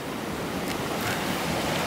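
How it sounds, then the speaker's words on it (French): Big ocean waves roll and break on the shore of the American east coast, a steady loud broadband roar of surf with wind noise, no voices heard. "Donc là, il y a des grosses vagues qui s'en viennent."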